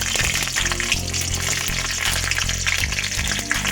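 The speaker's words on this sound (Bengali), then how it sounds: "লঙ্কাটা আমার একটু ভাজা ভাজা মতন হয়ে যায়" Green chilies and panch phoron fry in hot oil, a steady close crackling sizzle over a low rumbling hum, with no talk.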